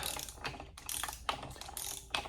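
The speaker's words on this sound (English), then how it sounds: "I got the flywheel brake on, and I got the torque multiplier on. Now we're going to torque it up a bit." A torque multiplier ratchets in quick bursts of close, sharp clicks while flywheel bolts are torqued on a clutch and flywheel job, several short clicking runs over a couple of seconds.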